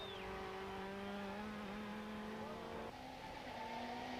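Super Touring race cars, including Opel Vectras, lapping the Aldo Scribante circuit in 1995, their engines holding a steady high-revving drone with a shift in pitch partway through, loud and continuous.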